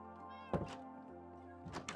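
A cat in the video game Minecraft meows twice, short clear mews over a steady humming game background, with a soft thunk at the first one.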